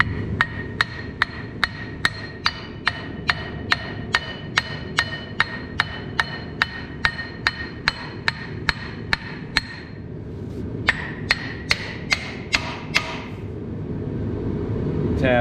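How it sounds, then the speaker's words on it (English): A hammer taps a part into the front end of a Minneapolis Moline G950 tractor with a long, evenly spaced series of sharp metallic strikes, a brief pause, then another quick run of taps, all close by. "I gotta get a hammer to knock it"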